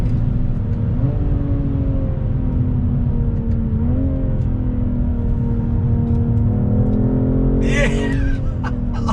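A 2021 BMW M440i coupe accelerates hard, its engine note rising and shifting through gears in a steady loud drone, with a brief higher-pitched burst near the end and occasional voices inside the cabin.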